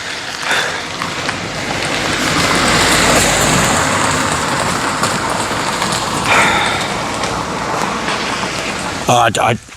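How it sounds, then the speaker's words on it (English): A car approaches and sweeps past nearby, its hissing tire and engine noise swelling loudly over a few seconds and then fading into a steady, rain-like background wash. "there's another car coming"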